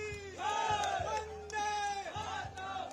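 A large crowd at a Valsad Lok Sabha public rally with Gujarat Chief Minister Bhupendrabhai Patel, cheering and shouting loudly in a sustained roar with rising calls, no clear clapping, steady and close throughout.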